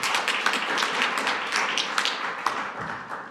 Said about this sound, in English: big applause for her, please